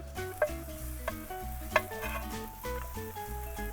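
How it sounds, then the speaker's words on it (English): Banana pancakes fry in a hot pan on a camp stove, a steady soft sizzle running beneath prominent melodic background music with light occasional clatter. "Time to get the stove out and we'll cook some pancakes."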